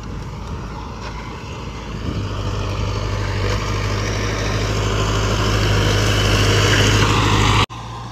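A Mahindra Arjun Novo 605 tractor running a Sonalika rotavator gives a loud, steady engine drone with a low hum, continuing without a break before it cuts off sharply near the end.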